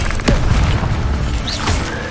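A fiery Incendio spell is cast in Hogwarts Legacy, a loud booming burst with a rushing whoosh that rumbles on amid other game effects.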